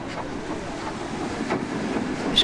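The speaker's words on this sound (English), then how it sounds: "Here is that train approaching Rothley Station." A heritage train rolls into Rothley Station on the Great Central Railway, giving a steady low rumble and rattle of carriages at moderate distance, with a brief high squeal near the end and no voices.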